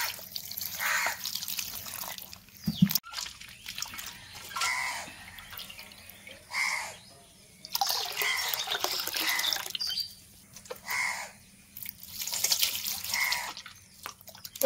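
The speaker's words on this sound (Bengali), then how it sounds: "এটা আবার ফ্রেশ পানি দিয়ে ধোবো।" Water splashes and trickles in bursts as flour dough is washed in fresh water, with pauses between rinses and one sharp knock near the start.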